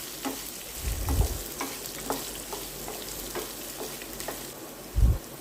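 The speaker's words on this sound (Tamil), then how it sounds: "ஸோ நல்லா வதக்கிடுங்க வெங்காயத்தை." Chopped medium onions sauté in a pan with cumin for tomato chutney, a soft, low sizzle with light stirring scrapes and a couple of duller bumps of the pan.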